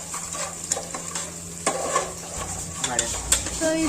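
Onions and masala fry in a pan while a spoon stirs and scrapes, giving a close sizzle broken by repeated clinks and scrapes of metal on the pan.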